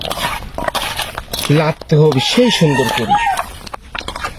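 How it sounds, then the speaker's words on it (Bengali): Chickens call out loudly nearby as they wait to be fed, a run of clucking and crowing cries mixed with a person talking and light clatter of dishes. "পাখিরাও ডাকতেছে খাওয়ার জন্য"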